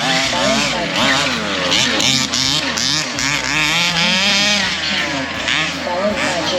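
Two-wheel-drive and four-wheel-drive RC cars racing together at a club track in Perth, Western Australia, a dense high buzzing whine of small motors rising and falling, loud and continuous beneath a commentator's voice.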